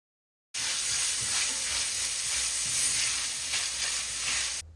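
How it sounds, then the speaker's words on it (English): Garlic sizzling steadily in a hot pan with celery and onions, stirred as it fries; a loud, continuous crackling hiss close up that runs unbroken for several seconds, with no voices. "Let's add the garlic to the party, stir it on in."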